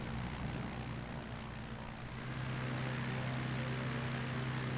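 Propeller engine of a Shock Ultra Cub bush plane in Microsoft Flight Simulator throttles up for takeoff, a droning buzz that grows louder and steadier halfway through, with no talking.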